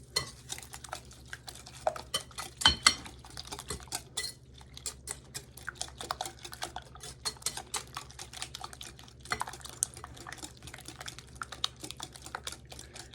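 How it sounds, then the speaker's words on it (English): A whisk stirs ingredients in a bowl, fast irregular clinks and taps of metal on the dish, close but fairly quiet, continuing steadily with no talking. "we're gonna start whisking these, get these all mixed together."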